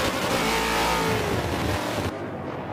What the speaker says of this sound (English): Sunny Flair and the Zonda R are fighting for first place